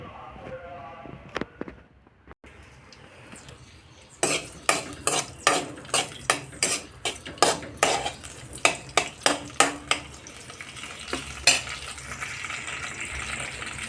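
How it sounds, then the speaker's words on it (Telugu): Green chillies fry and sizzle in hot oil while a utensil clanks and scrapes against the pan in a steady, repeated rhythm, close and fairly loud after a quieter start. "ఇప్పుడైతే అందులో పచ్చిమిర్చి వేసుకుండి వేయించుకుంటాను."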